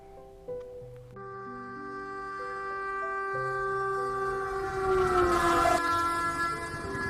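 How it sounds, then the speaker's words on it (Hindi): Train starting to move, used as a sound effect in a story: a sustained multi-tone horn and steady rail rumble building louder as it pulls away, with no voices. "ट्रेन चल पड़ी।"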